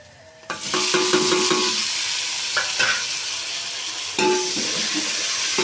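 Tomatoes drop into frying masala for chicken palo and set off a loud, close sizzle that stays steady, broken by stirring scrapes and clinks of a spoon against the pot, with a fresh sharp burst of sizzling near the end; no talk.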